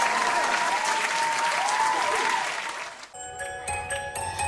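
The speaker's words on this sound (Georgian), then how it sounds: "თქვენი აპლოდისმენტი." Applause fills a dance academy performance hall for about three seconds, loud and continuous, then cuts off as music with a sung voice begins.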